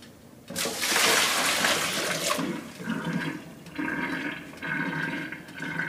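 Cold asparagus and ice water poured into a colander in a kitchen, a loud rushing splash for about two seconds followed by softer bursts of draining, trickling water and rattling spears.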